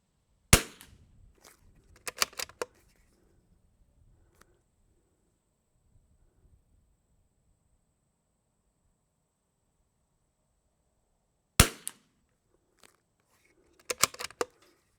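A CZ 457 rifle with Shilen barrel in an MDT XRS chassis firing Eley Tenex rimfire ammunition, several sharp close shots in small clusters separated by long silent gaps.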